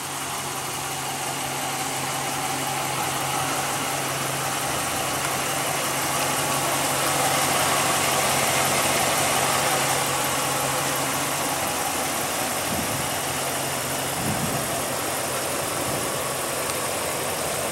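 A 2015 Ram 1500 pickup engine idles steadily after start-up, a continuous low hum with a faint broadband hiss that holds level throughout, with a couple of brief bumps near the end and no talking.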